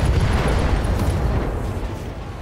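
Loud rumbling explosion from mech weapons fire in BattleTech, a heavy low boom that rolls and slowly fades over a couple of seconds.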